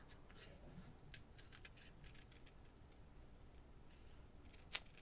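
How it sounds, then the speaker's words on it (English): Scissors snip softly through paper while fussy cutting printed Edith Holden butterflies for a book-page junk journal, a quiet series of quick, irregular cuts close up, ending with one sharper click. "do a bunch of fussy cutting"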